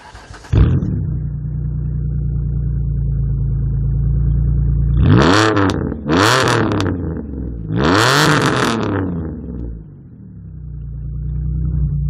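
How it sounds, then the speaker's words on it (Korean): A Ford Mustang idles with a deep steady rumble, then its exhaust is revved three times in quick bursts, each a loud rising roar that falls back to idle, close by with no voices. "이 차의 배기음을 들려드릴게요"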